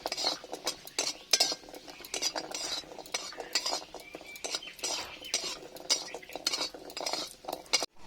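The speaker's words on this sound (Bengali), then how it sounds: "বড়িটা ভেজে নিচ্ছি" Bori lentil dumplings frying in oil in a hot wok, with steady stirring, scraping and metallic clinks of a spatula against the pan throughout, close and continuous, with a faint sizzle beneath and no talking.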